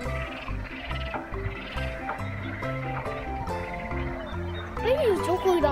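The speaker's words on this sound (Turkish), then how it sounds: "kurbağaların seslerine bak" Frogs at a pond during a picnic in Çorlu croak in a repeating chorus, moderately loud and close, while people talk over them throughout.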